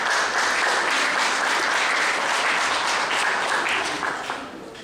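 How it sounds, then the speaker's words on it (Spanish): Sustained, loud audience applause at a law lecture on international cooperation in criminal procedure, a dense wash of many hands clapping steadily for several seconds before tapering off near the end, with no voices over it. "les pido a todos un fuerte aplauso para el doctor López Figueroa"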